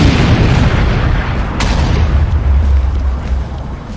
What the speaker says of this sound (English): we got explosion!